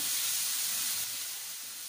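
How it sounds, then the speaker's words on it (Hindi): Chopped onions frying lightly in a pan make a soft, steady sizzling hiss that fades slightly toward the end, with no voices. "हम ये चॉप की हुई प्याज को शामिल कर देंगे। और इसको हम हल्का सा फ्राई करेंगे"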